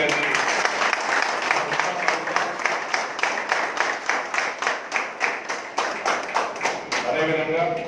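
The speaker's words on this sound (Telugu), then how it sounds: "ఒకసారి వాలంటీర్స్ అందరూ చప్పట్లు కొట్టుకెళ్ళండి." Volunteers at a free medical camp clap in a steady, rhythmic beat, close and loud, ending with a brief voice.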